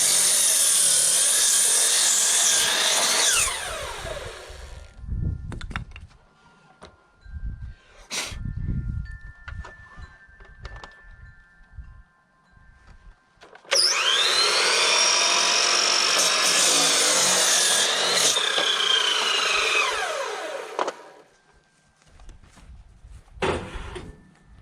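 A saw cuts through a wooden rafter at a 45-degree angle in two loud, sustained passes separated by quieter handling and knocking of the wood.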